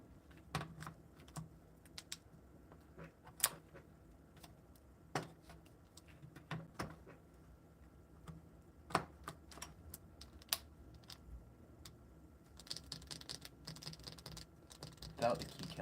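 Typing on a modded Lego keyboard built from a KBDcraft Lilith kit, switches without keycaps: irregular, close clicks and clacks in short runs with pauses, ending in a quicker burst of keystrokes.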